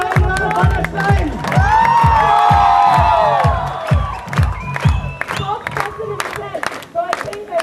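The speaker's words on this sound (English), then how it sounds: "So I think I need another round of applause." An audience at a school annual day cheers and whoops loudly, with rhythmic chanting and clapping, youthful shouts rising over the crowd before breaking into scattered claps and calls.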